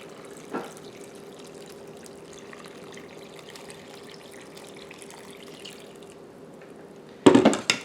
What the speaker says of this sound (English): now I'm going to put some water in here until it's covered